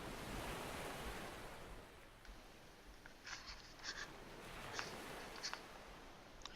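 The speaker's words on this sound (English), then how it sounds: "I think the little ocean sounds." Soft ocean waves and surf wash steadily at a low level, a faint continuous hiss with a few small clicks scattered over it, and no voices.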